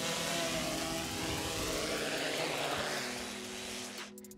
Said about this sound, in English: press and hold to land, and the drone will automatically land.